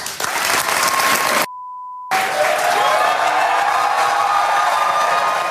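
Jerry Springer studio audience cheering and applauding loudly, cut by a steady censor beep before the crowd noise resumes with a sustained tone underneath.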